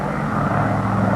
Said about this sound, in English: the 4 big engines will cruise the DC-6 at better than 300 miles per hour